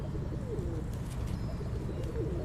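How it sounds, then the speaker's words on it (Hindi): Closed-tail breed pigeons in an Islamabad breeder's loft give soft, low coos that are faintly heard beneath steady, hissing background noise. "ये देखें बंद दुमों के कबूतर पसंद करते हैं"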